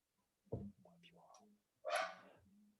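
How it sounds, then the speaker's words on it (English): A couple of dogs bark in two short bursts, faint and somewhat distant, over an otherwise quiet background. "my dogs are barking"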